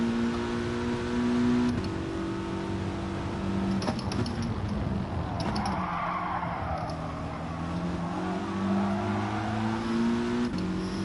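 Gran Turismo Sport race car pushing to pass out of a slipstream, engine droning and revving with shifting pitch, tire skids and squeals over a steady roar.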